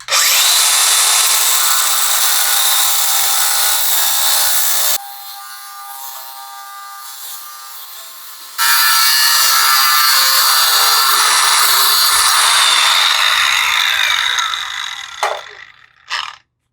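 A DeWalt DCG414 cordless angle grinder cuts in loud, steady bursts, then drops to a quieter whine for a few seconds, then cuts hard again before spinning down and stopping near the end.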